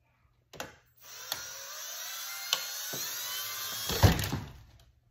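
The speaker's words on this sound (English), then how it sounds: "I'm gonna go ahead and try to drill a hole." A small drill boring a hole into a plastic water bottle, a high whirring whine running for about three seconds between short clicks and knocks, close and clear with no talking.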